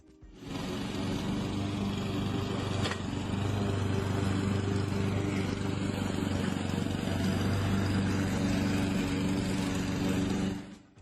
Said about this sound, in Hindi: अपने लॉन मोवर को एक ऑटोमेटिक मोवर में कन्वर्ट कर दिया